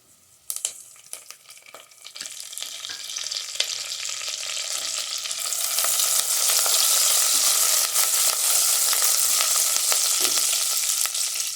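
Curry leaves hit a pan of frying onions with a few sharp crackles, then the sizzle swells into a loud, dense, continuous hiss that holds for several seconds.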